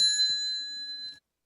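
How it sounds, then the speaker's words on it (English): A small ringing bell, a desk bell being hit, gives one bright sustained ting that hangs at even loudness and then cuts off abruptly. "Did I hit the bell for Sophia, too? I'll do it twice."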